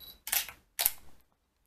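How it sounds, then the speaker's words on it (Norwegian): A camera shutter fires twice in quick succession, each a sharp mechanical click-and-whir, close and fairly quiet, during manual exposure setup, followed by silence. "Ta bildet."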